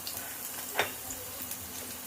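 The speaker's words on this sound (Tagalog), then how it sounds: "At syempre ilagay na natin ang bawang pag mainit na" Garlic sizzles gently in hot oil in a pan for a Bicol-style chicken steak, a steady faint frying hiss with one small crackling pop, heard alone.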